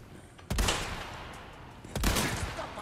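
Two loud, sharp gunshot blasts from the Resident Evil 4 Remake video game ring out about a second and a half apart, each trailing into a brief echoing decay over faint background noise.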